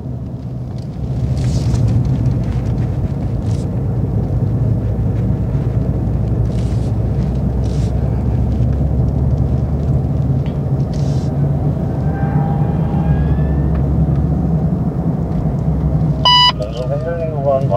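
BMW M5 Competition driven on a driving-centre track, a loud continuous low engine rumble and road roar from inside the cabin, with a short electronic beep near the end.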